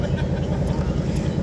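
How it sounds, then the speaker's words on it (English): Aston Martin Valkyrie race car idling in the Sebring paddock at the 2025 event, a close, steady low engine rumble with faint background noise. "if you're listening, you can hear this idling."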